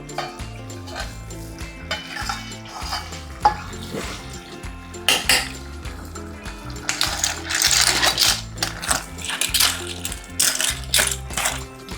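A lid comes off a metal cooking pot with clanks and scrapes of metal cookware, followed by rattling and clinking close by, with no talking.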